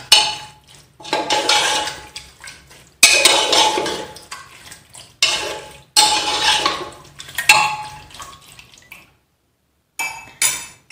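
A spoon scrapes and clanks around a metal pot of beef curry in repeated stirring strokes, each burst a second or two long with short pauses between, close up.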